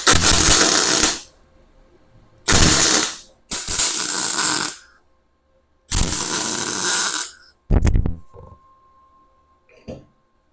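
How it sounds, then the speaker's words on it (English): Welding holes shut in a sheet metal tool box: loud, crackling bursts of arc welding, each lasting one to two seconds, separated by silent pauses, with a few short taps near the end. "So first thing I'm going to do is weld these holes shut."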